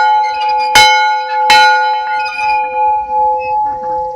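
An old one-room schoolhouse bell struck twice, each clang sharp and loud, then ringing on in a long, clear metallic sustain that slowly fades, with no voices.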